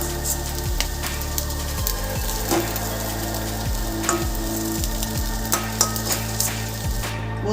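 Fish roe fritters frying in hot oil in a pan, a steady sizzle with light scraping and clinks as the pieces are lifted out one by one, close and without talk.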